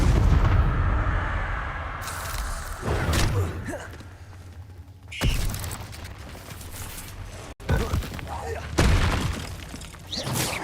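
Confringo explosion spell going off in a Harry Potter video game, a series of heavy booming blasts and crackling bursts spread across the stretch, loud and close, with game voices mixed in.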